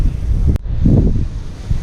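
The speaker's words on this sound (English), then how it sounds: "It's freaking windy and cold." Strong, cold wind blowing outdoors beside a car being worked on, a steady low buffeting rumble across the mic with gusts swelling and easing, plus one sharp brief knock.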